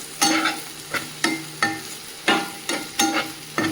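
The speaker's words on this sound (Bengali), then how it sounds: "এদিকে পটল ভাজাটা চাপিয়ে দিয়েছি" Pointed gourd (potol) slices frying in a pan, with repeated sharp scraping stir strokes about every half second over a steady close sizzle, no talking.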